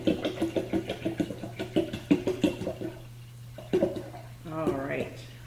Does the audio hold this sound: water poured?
yes